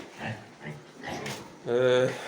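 Pigs on a small farm grunt in a few short, close bursts, ending in a longer, louder grunting snort.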